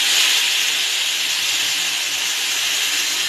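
Water poured into a hot pan of cooking vegetables sends up a loud, steady sizzling hiss that runs unbroken for a few seconds, with no voices.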